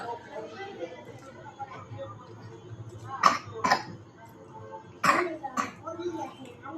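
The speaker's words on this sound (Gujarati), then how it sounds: "ઉધરસ થઈ ગઈ છે બહુ" Two pairs of sharp coughs break out a couple of seconds apart, close by, over quiet background chatter.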